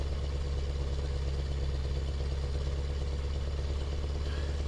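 Truck engine with a straight pipe exhaust in Euro Truck Simulator 2 on a drive in Russia, a steady, loud, deep droning rumble that holds unchanged throughout with no voices.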